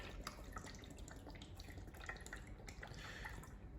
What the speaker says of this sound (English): You want to empty this bottle into that tank, whole bottle.